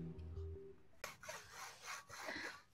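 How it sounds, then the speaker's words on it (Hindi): A hand saw rasps back and forth through a tree trunk outdoors, faint repeated strokes of scraping wood with an uneven rhythm. "मेरे साथ आरी पकड़ के खींचो, उससे कट नहीं रहा"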